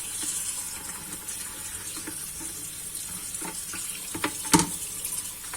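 Tap water running steadily over anchovies being rinsed in a sink, a constant hiss of flowing water with small splashes and a brief louder clatter of handling near the end.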